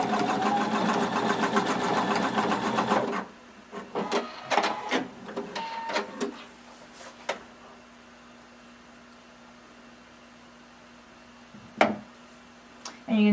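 A sewing machine zigzag-stitches overlapped elastic for a swimsuit, running in a fast, even mechanical patter for a few seconds before stopping, followed by scattered clicks and knocks of handling the fabric and machine.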